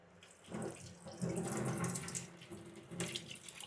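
Water is poured into a broccoli soup mixture in a home kitchen, a close, quiet, continuous splashing stream that swells and eases over a few seconds with no talking.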